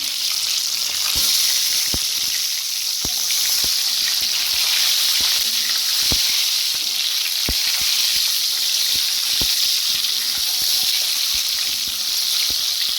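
Eggs fry in oil in a hot kadai, giving a steady, loud sizzle close up with scattered sharp pops and crackles throughout.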